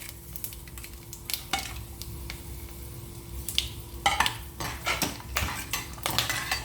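Whole spices crackle in hot ghee for a vegetable biryani, with faint sizzling under clattering metal utensils that scrape and knock against the pot, growing busier toward the end.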